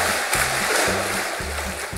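Steady loud rush of a free-flowing campsite river in Orani, Bataan, a close, unbroken hiss of moving water layered over a recurring low throbbing hum.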